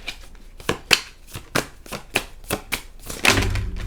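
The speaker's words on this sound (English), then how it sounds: "May I have 3 cards, please?" Tarot deck shuffled by hand, a run of about nine crisp, regular riffling snaps close to the mic, then a softer slide as cards are drawn at the end; no talking.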